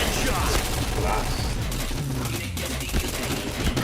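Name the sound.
gunfire in the video game Point Blank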